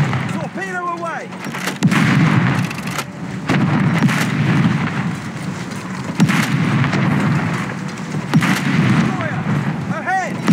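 Torpedo launches from a submarine in the War Thunder Mobile naval game: heavy booming thuds strike at intervals over a dense, rumbling battle-noise bed, with faint radio-style game voices in the background.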